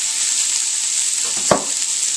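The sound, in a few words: chopped vegetables and parsley added to a soup pot on the stove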